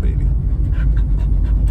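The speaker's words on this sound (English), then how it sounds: "I could hear the tones in Daisy's whimpers right now" A dog whimpers and pants close by during a car ride, its soft whines sitting over a steady low road rumble from the moving vehicle.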